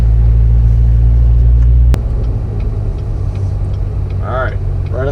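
A 2015 Corvette Z06 with a manual transmission rumbles with a deep, steady low engine drone as it pulls away, the tone dropping slightly partway through, while people talk over it.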